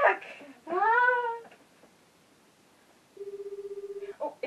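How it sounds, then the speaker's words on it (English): A phone rings with a steady electronic ringtone lasting about a second near the end, preceded by a high, meow-like voice and a brief rustle. "Oh, it's ringing."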